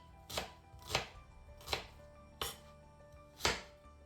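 A knife chopping onion into pieces on a board, five crisp separate chops at uneven intervals, close and clear with a quiet background and no talk.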